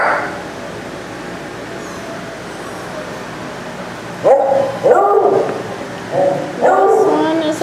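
Dogs in a kennel area bark and whimper in several short, loud outbursts over a steady background hum of traffic, with whiny yips in between the barks.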